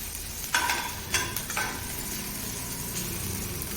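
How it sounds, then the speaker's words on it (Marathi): Cumin seeds roasting in a pan for a rustic chili chutney, a low steady sizzle with a few spoon scrapes and stirring clinks near the start. "यामध्ये आता मी एक चमचा जिरे टाकणार आहे जिरे पण चांगले परतले गेले पाहिजे"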